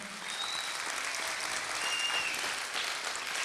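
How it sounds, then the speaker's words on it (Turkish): Steady applause from a sizable crowd at a Father's Day celebration program, many hands clapping continuously at an even level throughout. "Onları da alkışlayalım."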